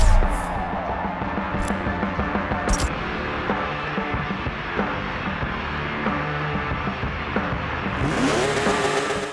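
A 2012 Porsche 911 GT3 RS 4.0 in Forza Motorsport 7 drag racing, its engine howling loud and continuous as it accelerates, with brief high bursts of noise at the start and a rising surge near the end.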